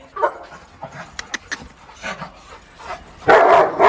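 A Labrador near a hostel gate growls and whimpers in short uneven bursts with small yips, close by, ending in a louder, rougher outburst.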